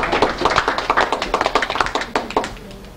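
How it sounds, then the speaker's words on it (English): An audience applauding at a 1991 track meet ceremony, a dense burst of sharp hand claps from a smallish crowd, fairly close, rapid and uneven, tapering off near the end. "And regular applause too."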